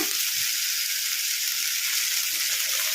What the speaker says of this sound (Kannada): ಕಲಿಸ್ಕೊಂತ ಫ್ರೈ ಮಾಡ್ಕೋಬೇಕು ಪುದೀನನ